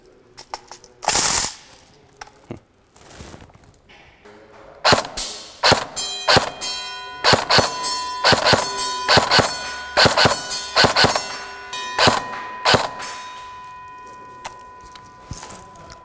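Airsoft gun firing in semi-automatic mode from a 250-round magazine, sharp metallic clanging shots, a few spaced early then a quick irregular string of single shots with ringing tails, close and loud.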